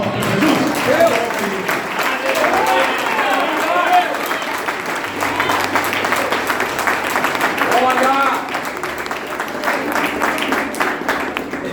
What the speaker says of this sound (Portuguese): Você tem mais uma salva de palmas para Jesus?